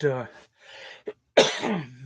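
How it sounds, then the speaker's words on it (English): A person coughs in a couple of short bursts between stretches of talking, the coughs close and fairly loud, with a brief throat-clearing sound among them. "sorry about this cough; it just will not go away."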